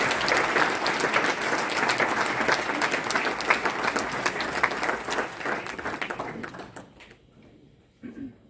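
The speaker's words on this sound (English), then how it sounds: "Let's give a big round of applause to Dr. Sarin." A large audience applauds with steady, dense clapping that continues for several seconds before tapering off, followed by a brief quiet sound near the end.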